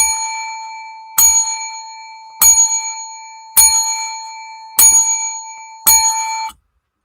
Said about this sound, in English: 6 bell rings.